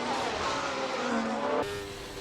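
An F1 race car in a racing video game taking a tight corner, its high engine whine held loud and close, then dropping in pitch as it brakes and turns.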